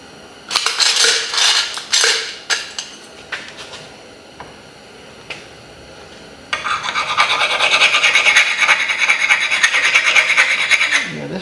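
A metal hand file rasps across a hardened steel shaft in a series of rough, uneven strokes, then settles into a steadier, sustained grinding scrape, close and fairly loud.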